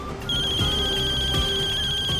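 A mobile phone rings with a bright electronic ringtone that starts abruptly and repeats steadily at close range, playing alone over a low room hum.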